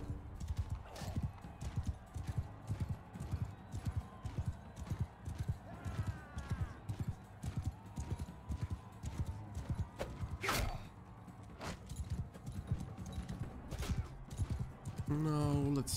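Horse hooves clip-clop steadily through a mounted combat scene in the video game Mount & Blade II: Bannerlord, with a horse whinnying and battle noise, while a person talks over the action.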